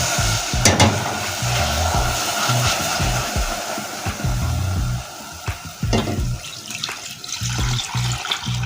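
A cream caramel mixture of starch, sugar and milk is stirred into hot caramel in a pan, making a bubbling, hissing sizzle broken by irregular scraping strokes, loud and close.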